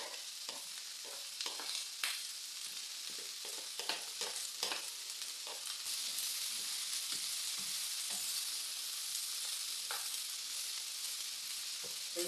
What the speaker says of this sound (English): Now we are going to stir fry all this together.